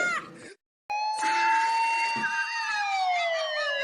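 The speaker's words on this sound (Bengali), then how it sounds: "ওই দেখ পুলিশের গাড়ি আসছে" A cartoon police car siren wails loudly and steadily, its rising and falling tone holding close by after a brief moment of silence.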